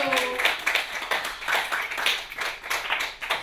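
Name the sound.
comedy show audience applauding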